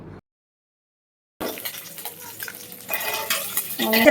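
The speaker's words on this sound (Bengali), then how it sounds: "কাতলা মাছগুলো ভেজে নিচ্ছি" Pieces of large, fatty catla fish frying in oil in a home kitchen, a steady sizzle with scraping stirs and clinks of utensil on pan, starting abruptly after a brief silence and growing louder.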